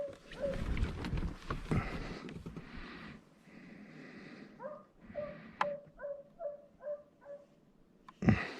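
Hunting hounds bark from about 300 yards out at the edge of a cattail marsh while chasing a coyote, heard as faint, distant, irregular barks in open country.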